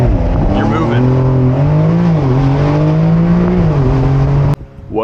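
A 992-generation Porsche 911 Carrera 4S Cabriolet launches and accelerates hard, its engine note climbing steadily through the revs for several seconds and dropping sharply at a gear change, loud and close.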